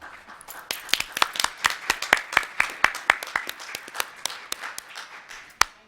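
Small group applause at a board meeting for a birthday: a short burst of scattered hand claps, close and fairly light, trailing off into a few last claps.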